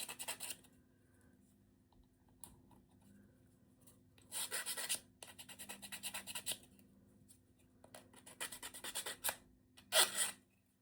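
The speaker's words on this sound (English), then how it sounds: "Let's just take off any burrs just so that they are going to stick properly." Small miniature book nook parts get their burrs filed off in short, close rasping bursts separated by quiet pauses, several strokes grouped near the middle and end.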